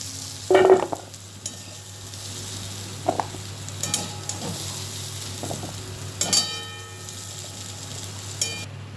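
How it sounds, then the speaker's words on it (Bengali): Potatoes frying gently on low heat in a covered pan for a fish-head poppy-seed curry, a soft continuous sizzle broken by a few sharp clinks and stirring knocks, no talking. "অল্প আঁচে ভালো করে ভেজে নিচ্ছি আলুগুলোকে"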